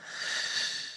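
A single slow, deep breath out of the mouth sounds as an airy, breathy rush close to the ear, swelling and easing over about a second.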